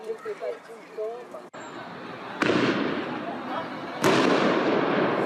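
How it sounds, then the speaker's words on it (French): Two loud firework bangs burst out about two seconds apart, each followed by crackling and echo, after a stretch of voices talking; the fireworks are launched at a residential building. "des jeunes de la cité voisine lancent des feux d'artifice sur la résidence"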